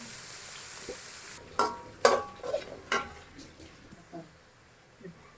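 Onions and green chillies sautéing in oil for a dry fish gravy, a soft frying hiss broken by a few sharp scraping and stirring clatters of a spoon in the pan, fairly close.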